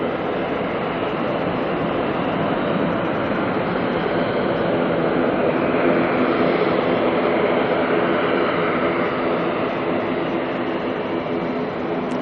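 Jet aircraft engines roaring at Auckland Airport at night with the burners going, a steady, loud, unbroken broadband rush lasting throughout with no voices.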